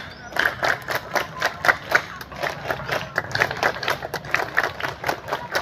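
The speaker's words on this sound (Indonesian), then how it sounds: "Tepuk pramuka." A group of scouts at a Scout Day ceremony performs the tepuk pramuka, a patterned rhythmic clapping cheer in a steady sequence of crisp claps from a crowd at moderate distance, with voices faintly underneath.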